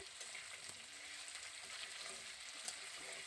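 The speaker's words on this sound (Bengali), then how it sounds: "আলুগুলোকে প্রথমে ভালো করে তেলের মধ্যে ভেজে নিচ্ছি" Potatoes frying in oil make a faint, steady crackling sizzle with a few brief ticks and pops, heard close up but quiet, with no one speaking.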